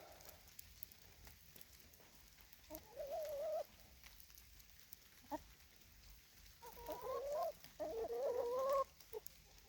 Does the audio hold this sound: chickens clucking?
yes